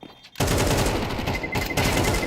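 Rifle gunfire from the game Counter-Strike at a professional ESL Pro League match, a dense loud burst of rapid shots starting after a brief quiet lead-in and continuing steadily to the end.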